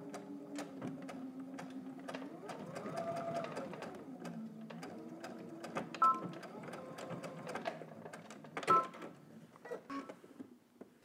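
A domestic sewing machine stitches a jeans seam with backstitching, its motor whirring in bursts that speed up, slow and pause, with quick needle clicks and small clacks in between. The sound is close and steady, with no one talking.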